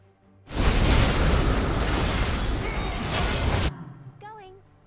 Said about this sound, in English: Your team has destroyed a turret.